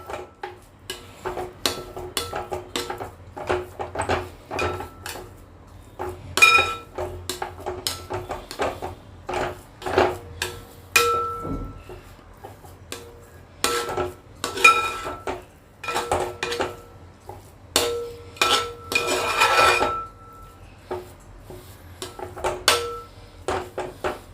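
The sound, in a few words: stirring rava kesari in an uruli pot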